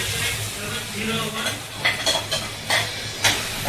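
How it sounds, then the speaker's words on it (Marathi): Sago is stirred in a pan with oil and potato fried until reddish. A continuous sizzling hiss is broken by several sharp scraping strokes of a spoon against the pan. "शाबू टाकला की लगेच हलवून घ्यायची"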